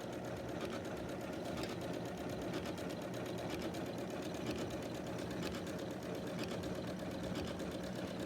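A Janome sewing machine stitching a blanket stitch appliqué, running with a steady continuous mechanical hum and rapid needle chatter, close and even throughout.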